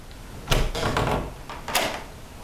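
A door at the Magnolia Hotel in Seguin swings open nearby, with a heavy thud and creaking movement followed by a second bump.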